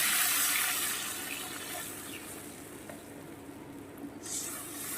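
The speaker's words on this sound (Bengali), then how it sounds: "এই পর্যায়ে আমি দিয়ে দেব পরিমাণ মতন জল" Water being poured into a pan of thin katla fish curry after the spices have been fried down, a steady rushing splash that is loudest at first and then settles into a softer hiss.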